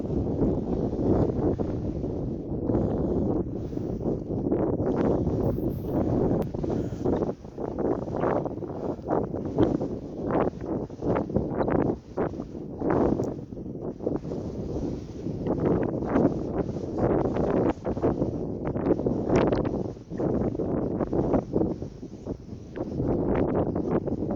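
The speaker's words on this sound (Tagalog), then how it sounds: "Sobrang hangin." Strong gusts of wind buffet the microphone continuously during an outdoor uphill climb, a loud, rough roar with irregular surging bursts and no voices.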